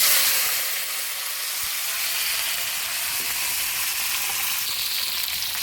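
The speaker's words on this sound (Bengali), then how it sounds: "কড়াইতে তেল গরম হয়ে গেছে," Flat beans fry in hot oil in a wok in a village kitchen, giving a steady, loud, close crackling sizzle that runs unbroken throughout.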